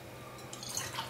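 Water poured into a heavy kadai pan, a brief, faint splashing trickle heard alone.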